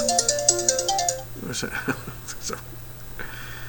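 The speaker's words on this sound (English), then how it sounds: "That is my phone." A mobile phone ringtone plays a quick, bright melodic pattern up close for about a second, then a person starts talking nearby.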